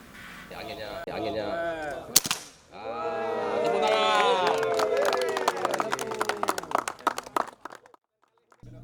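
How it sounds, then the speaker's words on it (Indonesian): Police shooting competition at an outdoor range: one sharp, loud gunshot crack stands out, followed later by a quick string of snappy reports while someone talks over them. "Kepolisian Resort Aceh Besar menggelar kejuaraan menembak"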